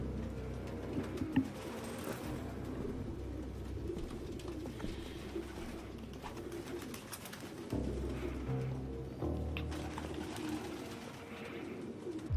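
Pigeons coo in a Detroit: Become Human game scene, soft repeated calls sitting low under a steady ambient bed throughout, with no talk over them.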